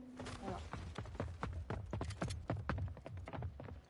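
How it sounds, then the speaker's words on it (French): Footsteps in the video game Bed Wars: a quick, steady run of close, distinct footfalls clattering along for several seconds, with a voice talking at points. "Trop bruit de pas là"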